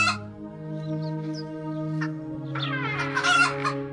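Cartoon chickens wake and fight, clucking and squawking in shrill, overlapping bursts over a sustained musical tone, ending in a louder flurry of agitated cries.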